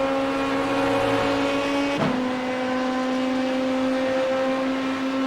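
A race car engine drones loud and close as it accelerates down the straight on lap 8 at Fuji in a sim racing league game, with a sharp gear shift midway before the steady engine roar resumes.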